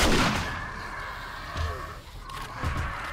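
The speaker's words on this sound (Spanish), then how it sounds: "Esos son los misiles que rompen bloques" Missiles exploding in the zombie survival game 7 Days to Die (Darkness Falls mod), giving a loud opening blast followed by two further booming detonations at moderate distance, with a faint low rumble between them.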